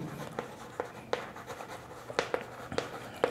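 Pen or marker strokes on a board or paper during a math lesson on ratios, with soft scratchy taps and short strokes spaced irregularly, close and fairly quiet, with no talking.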